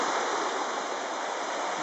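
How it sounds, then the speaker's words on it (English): A river and waterfall at Crawfordsburn Country Park rush steadily in a constant broadband roar, close and continuous with no voices. "Now we're right down by the river ourselves."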